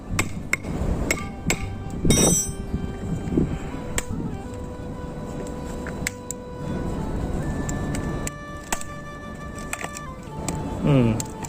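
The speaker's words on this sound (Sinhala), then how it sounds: "ඉතින් මම මේකට පොඩි මල් එකකුයි මිටියකුයි පාවිච්චි කරනවා" A hammer striking a small chisel to break open a float switch, giving sharp metallic knocks in irregular bursts with ringing tones between blows, fairly close.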